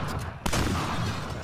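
Video game gunshots crack in a dense, loud volley, closely spaced shots layered over a busy, noisy game soundscape.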